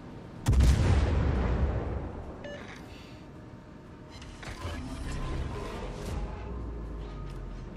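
Naval guns fire in the World of Warships game: one close, heavy boom rolls off into a long rumble, followed by fainter distant blasts and lingering thunder.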